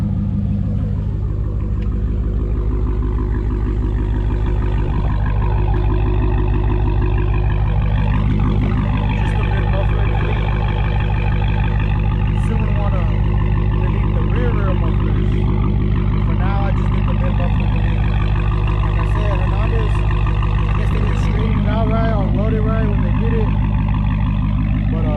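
A Dodge Hellcat with a repaired exhaust runs outside, its deep, steady rumbling idle continuous and close, with a person talking over the engine.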